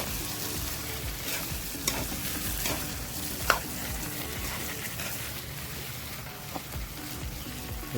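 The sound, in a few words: stirring rajma curry in a pan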